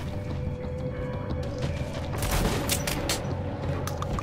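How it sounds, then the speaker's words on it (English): A rapid-firing gun in Metro: Last Light lets off a cluster of sharp, fairly loud shots in the second half, following a steady low mechanical rumble. "it fires a lot of rounds"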